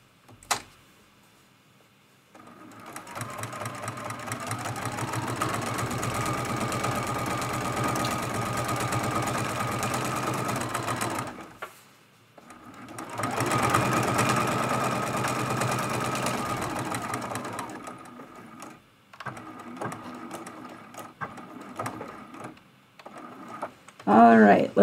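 A sewing machine quilts along the edge of an art quilt in two long steady motor runs separated by a brief pause, with scattered handling noises afterward and a voice talking.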